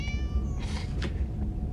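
A cat meows a few times in quick succession, clear and fairly close, over a steady low background hum.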